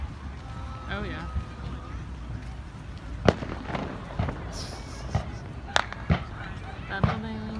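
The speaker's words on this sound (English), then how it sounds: "There are private fireworks going off everywhere too." Scattered private Fourth of July fireworks burst with sharp, irregular bangs and pops, some louder and closer, over a low background rumble while people chat nearby.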